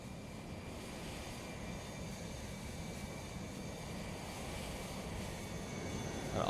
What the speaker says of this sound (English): Delta 737-800 with the new FT-Sim sound pack, or the updated sound pack